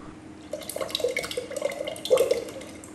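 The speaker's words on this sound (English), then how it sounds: "First add 1 to 2 cups of water." Water poured into a pan while making a red bean popsicle mixture, a close burbling, splashing pour of a few seconds that swells toward the end, with no voices.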